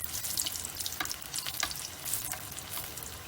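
Shami kebabs frying in splashed oil in a pan, a close, steady crackling sizzle with sharp bursts of spitting pops scattered throughout, no voices.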